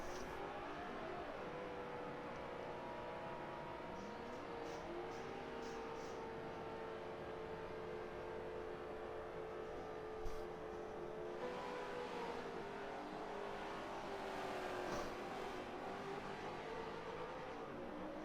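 Race cars circling an oval track at night during a 100-lap event, a continuous distant engine drone with rising and falling pitch as cars pass, faint and steady throughout.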